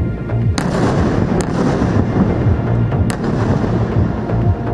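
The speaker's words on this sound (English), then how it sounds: "Huge explosions over Gaza as Israel intensifies its aerial bombardment and expands its ground operations." Heavy blasts and rumbling from an aerial bombardment over Gaza fill a continuous low roar, with a few sharp cracks standing out near the start and again later, loud and without speech.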